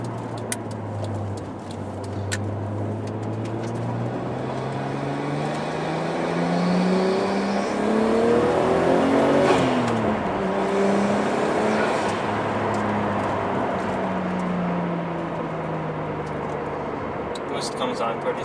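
A Nissan Skyline ECR33 is driven on wet tires, its engine note rising as it accelerates, peaking mid-ride and then easing off, with people talking over the steady road noise.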